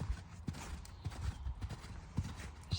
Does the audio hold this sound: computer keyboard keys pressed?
no